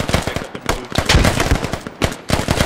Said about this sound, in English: you'll see how effective the suppressive fire is on the reverse side